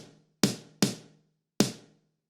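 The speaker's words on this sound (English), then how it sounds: "So both snares together sounds like this." Two layered snare drum samples hit together, three sharp, punchy strikes with quick decaying tails, close and isolated with silence between hits.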